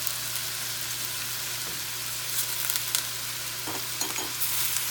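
Thai green curry paste, ginger, garlic and Thai basil sizzling steadily in a pan, with scattered soft scraping stirs over a constant frying hiss and a low electrical hum.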